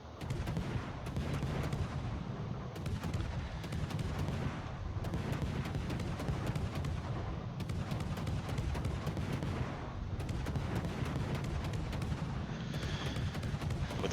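Warship guns in World of Warships firing nonstop, dense overlapping booms and cracks rolling into a continuous barrage for the whole stretch, loud and unbroken with no talk.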